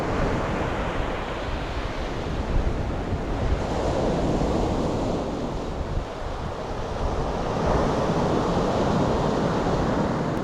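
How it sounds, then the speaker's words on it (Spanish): Ocean waves wash steadily onto a beach in Chubut, a continuous loud roar of surf with rolling swells and some wind noise across the microphone, with no voices. "Uy, qué bonita playa. Otra vez en el mar."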